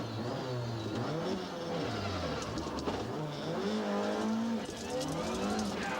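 Rally car engine at high speed in sixth gear at about 110 mph on a British forest stage, a loud steady roar with rising and falling pitch and faint tyre noise, close throughout.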